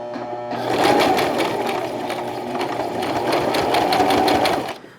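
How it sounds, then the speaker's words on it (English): A sewing machine runs steadily for about four seconds stitching a dart on a fabric sample, with a close, loud, even mechanical whir and rapid needle rhythm, then stops. "I'm going to go ahead and start sewing"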